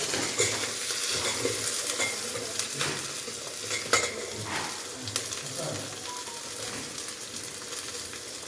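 Vegetables with onions and green chillies fry and get stirred in a pan for mango sambar, a steady close sizzle broken by repeated scraping and clinking of a spoon against the pan.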